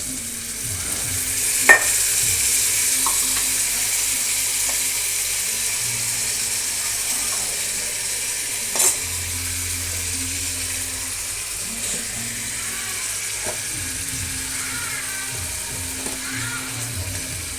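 Tomato with ginger-chili paste sizzles steadily in a pan as prawn kalia is prepared, a constant frying hiss with occasional clinks and scrapes of a spatula stirring.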